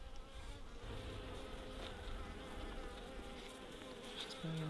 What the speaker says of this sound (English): it came with some male bees, and he doesn't have a stinger. That's what the male bees look like. That's called a drone.